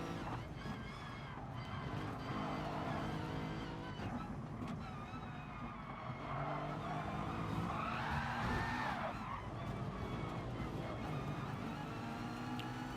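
A race car in Gran Turismo Sport spins after being hit from behind on a corner exit at Suzuka, tyres skidding and squealing over steady engine roar that stays loud for the whole stretch.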